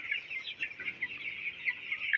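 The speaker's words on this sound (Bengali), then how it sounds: "আজকে আমাদের এই মুরগিগুলার বয়স হচ্ছে আজকে আঠারো দিন" Eighteen-day-old Aftab medium broiler chickens cluck and peep in a steady, soft flock chatter at moderate distance, with no talking over them.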